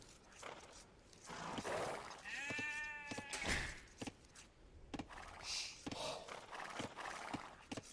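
Sheep bleat in the Age of Empires II video game, with a wavering, tonal bleat rising briefly amid faint game clatter and hoof-like clicks at low volume.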